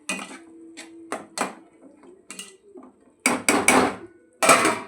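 A metal spoon stirs a village-style tomato curry in a pot, giving a series of close, irregular clanks and scrapes that come in bursts with quiet gaps between them.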